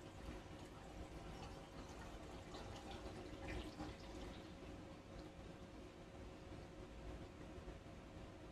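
Lab solution poured into a 2-litre Duran glass bottle, a faint continuous trickle and splash of liquid in a quiet room.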